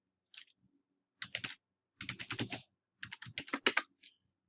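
Typing a hostname command on a computer keyboard: three quick bursts of close, crisp key clicks with short pauses between them, and no talking.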